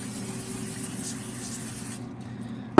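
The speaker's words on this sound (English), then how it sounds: "And I'll spray that to make sure." Cooking spray hisses onto parchment paper lining a baking pan for peanut butter fudge brownies, one steady close spray lasting about two seconds before stopping, with a low hum underneath.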